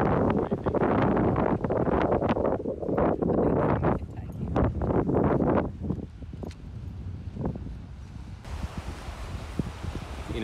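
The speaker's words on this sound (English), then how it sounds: "It's a little bit windy this afternoon." Strong afternoon wind buffets the microphone at a seaside jetty near a surf life saving club, a loud continuous roar with gusty surges that eases slightly toward the end.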